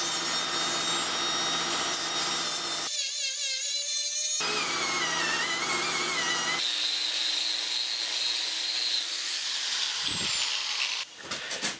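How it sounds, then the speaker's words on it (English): A die grinder runs loud and continuous, grinding crinkles out of a metal power sword blade, its pitch shifting between high and lower whines as the load changes, then cutting out near the end. "So I think I'm going to do that with the die grinder."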